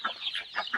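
Three domestic ducks at feeding time let out a quick run of four or five short, close quacking calls in under a second.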